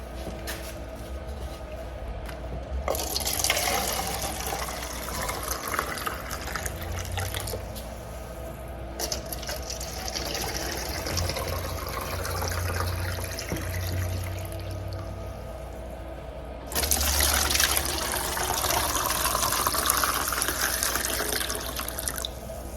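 Water runs steadily from an outdoor tap into a watering can during spring seed starting, a continuous rushing flow that shifts and grows louder near the end as the can fills.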